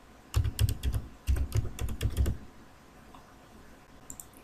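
Two quick bursts of typing on a computer keyboard while entering a password, crisp close key clicks in rapid runs separated by a short pause, then near silence.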